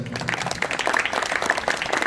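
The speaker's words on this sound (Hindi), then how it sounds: "सबसे पहले अपने लिए तालियां बजाइए।" School students at a divisional-level youth parliament competition burst into dense, continuous clapping that fills the whole short stretch at moderate volume.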